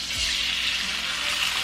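An egg sizzles in a hot cast iron skillet, a steady, fairly loud hiss that carries on without pause, with no talking.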